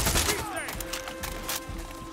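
Gunfire in Far Cry 6 crackles in repeated bursts of shots, moderately loud and scattered among other game effects and a faint whistling tone, with a voice speaking underneath.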